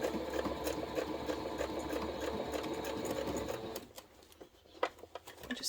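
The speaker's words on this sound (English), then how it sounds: "I'm just following the edge of the fabric and doing a quarter inch seam" Sewing machine stitching a quarter-inch seam along a fabric edge while making a notions tray, a steady close mechanical whir that stops partway, followed by brief handling clicks.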